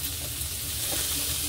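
Vegetables for veg momo filling sizzle steadily in a hot pan, a continuous close frying hiss with faint stirring, no voices.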